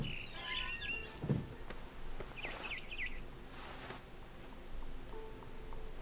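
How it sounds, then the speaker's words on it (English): A barn swallow chirps in the video game What Remains of Edith Finch, with short faint twittering bursts over a quiet ambient bed and a few small ticks, and no talk. "Then I heard chirping outside my window. It was a barn swallow going back to her nest."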